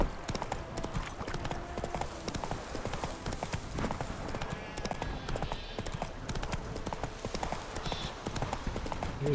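Hooves of the horse Roach in Witcher 3 clip-clop in an uneven, repeated rhythm, close and fairly loud, with occasional snorts and light game ambience.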